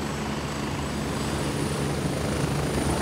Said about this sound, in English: All four of us on the helicopter.